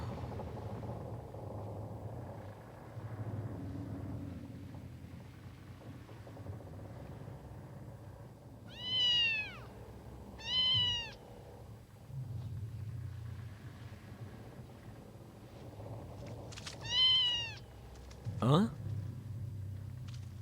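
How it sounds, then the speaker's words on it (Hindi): A cat meows in three or four short rising-and-falling calls, spaced apart over a low, steady rumble, fairly clear and close. "मेरी प्यारी बिल्ली, क्या लाई है?"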